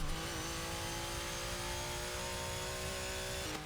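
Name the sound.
Porsche 962C engine accelerating in video game Forza Motorsport 6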